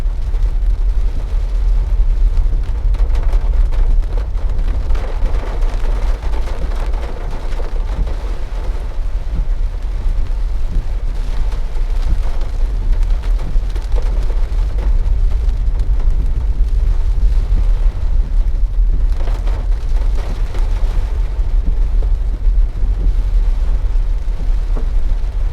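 Heavy rain falls steadily on a car driving country roads in St. Elizabeth, Jamaica, a dense unbroken roar of drumming water and road rumble with no speech.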